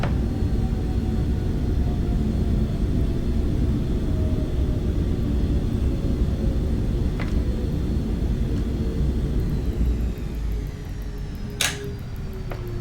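Learjet 35A rolling out after landing in a flight simulator game, thrust reversers and spoilers deployed, with a steady loud broadband roar and rumble that eases slightly near the end, plus a few brief clicks.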